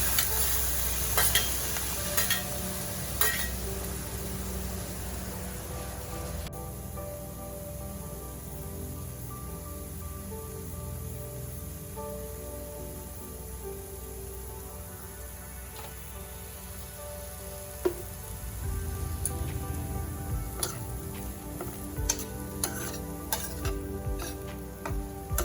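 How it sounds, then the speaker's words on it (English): Vegetables stir-fried in half a teaspoon of oil with salt, a steady close sizzle and spatter running throughout with occasional scraping stirs and clinks, no voices. "Stir fry the veggies in half a teaspoon oil and add 2 pinch of salt."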